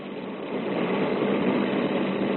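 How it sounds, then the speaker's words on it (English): Motorbikes roar as a radio drama sound effect, a dense, steady engine drone that swells slightly louder after a moment and holds, alone without speech. "Motorbikes roared into the North Side Car Wash from all sides."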